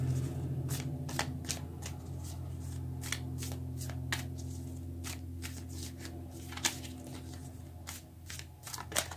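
Tarot cards shuffled by hand in a steady run of crisp riffling snaps over a low constant room hum, close and fairly quiet, with no talking.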